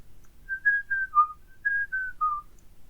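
A person whistles a short tune alone, clear sustained notes rising and falling in two matching phrases against a quiet background.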